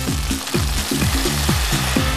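A ladleful of black squid ink stock poured into a pan of risotto rice, sizzling and bubbling steadily with a repeating scrape of stirring, close and fairly loud.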